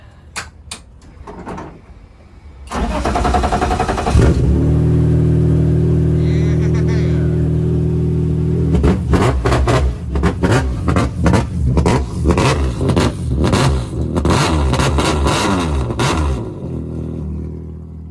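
A high-compression BMW engine cranks and catches with a loud start, settles into a rough, rumbling idle, then barks through a series of sharp revs, with voices around it in a garage.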